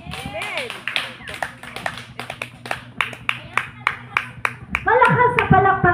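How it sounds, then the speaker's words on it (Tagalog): People at an outdoor garden prayer meeting clap in a run of sharp, fairly regular claps, with voices talking and exclaiming over them near the start and end. "Malakas sa palakpak sa ating Diyos"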